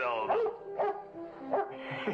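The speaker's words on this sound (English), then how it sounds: "Good old dog here." A dog barks in a Western television episode: three or four close, mid-pitched barks spaced about half a second apart, with a whiny edge between them.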